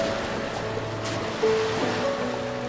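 Steady ocean surf washing onto a beach at dusk, a continuous broad wash with gentle swells and a faint low hum, close and moderately loud with no talking.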